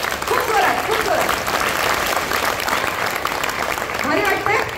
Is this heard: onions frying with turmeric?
no